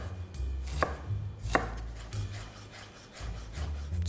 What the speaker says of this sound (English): Let's cut some scallions the long way. Simple thin cuts.